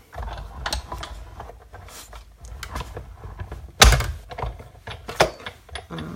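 A Big Shot die-cutting machine feeds a diorama Christmas card through its rollers, giving irregular mechanical clicks and rattles with one loud thunk partway through. No one speaks.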